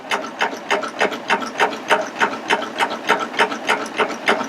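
A Baby Lock Applaud cover stitch serger runs steadily through fabric, giving a fast, even mechanical chatter of regular needle strokes, close and clear with no talking.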